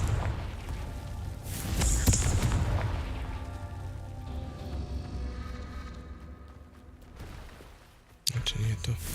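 A Confringo explosive spell fired in Hogwarts Legacy lands as a deep booming blast, followed by a long rumbling decay and then a sharp pop near the end, with someone speaking briefly.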